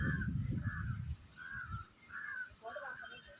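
Crows caw repeatedly in the distance, about five harsh calls in a steady rhythm, over faint wind-like rumble that drops away partway through.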